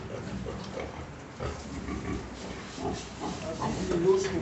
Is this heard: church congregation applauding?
no